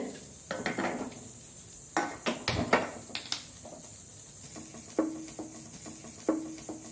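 Butter melts in a pan for paneer butter masala amid close metallic clatter of a spoon and pan, with a few sharp knocks and faint sizzling between them.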